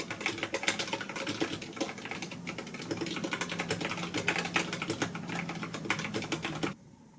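Fast, irregular clacking of fingers typing on a computer keyboard, close and steady for several seconds before stopping abruptly near the end.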